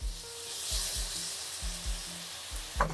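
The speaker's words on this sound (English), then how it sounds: "we're gonna let this cook for a few minutes and let some of the liquid from the half and half reduce" Creamed corn with spices, honey and half and half bubbling and sizzling in a pan, a close steady hiss with soft repeated low pops.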